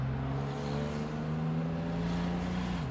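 A 1970 Mercedes-Benz 280 SL roadster engine drones steadily while driving, a low hum holding pitch then dropping slightly near the end as revs fall, heard alone at moderate level.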